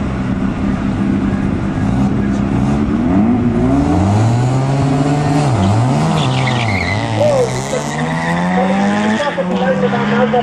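Drag race cars at a raceway nationals event, a Datsun against a Cobra, accelerate with loud sweeping engine tones that rise and fall over a steady roar, with a commentator talking over them throughout.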